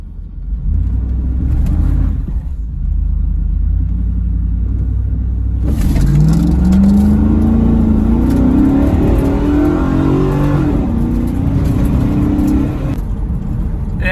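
A Chevrolet Camaro with a built 4L60 transmission and a stall converter idles with a deep rumble, then launches hard from a stop, its engine revving up loudly and climbing in pitch close by.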